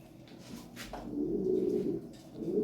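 An imported racer pigeon coos close by in soft, low, rolling notes, two murmuring phrases with brief pauses and a faint flutter of movement in the background.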